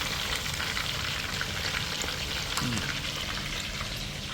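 Pepper kebab frying in a pan, a steady, close sizzle that holds evenly throughout with no talking.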